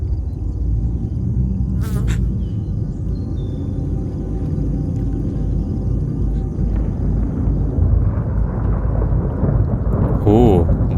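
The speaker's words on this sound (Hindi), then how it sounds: "बारिश होने लगी है।" Rain falling with thunder in a dark, stormy scene from the web series Ekaki Chapter 2: a dense, steady wash of rain and low rumbling throughout, with a few brief sharp sounds.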